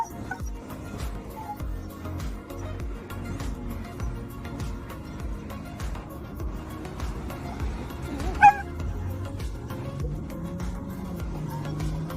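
A husky dog giving short barks, yips and whining whimpers outdoors, its vocalizations scattered through the clip with one sharper yelp, over background street noise.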